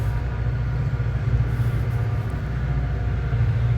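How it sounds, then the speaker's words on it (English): A train rolls past outdoors as a steady, loud low rumble that fills the whole stretch without a break, with a faint rattle of rail cars on top. "there's a train coming down"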